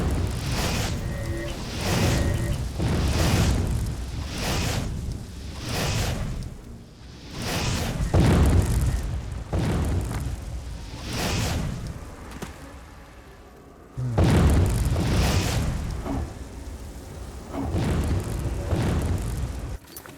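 Fire spells cast in the video game Oblivion, a series of repeated booming whooshes and bursts roughly every one to two seconds, loud and close, with short quieter gaps between.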